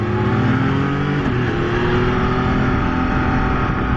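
A Can-Am Spyder RT three-wheeled trike with a semi-automatic transmission pulls hard under acceleration, a loud close engine drone with rising pitch, a brief dip near one second as the gear changes, then continuing to climb.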